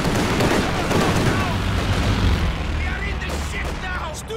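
A Stuka dive bomber strike in Company of Heroes 2 lands as loud rolling blasts and gunfire, a dense battlefield roar that swells and then slowly fades, with shouting voices over it.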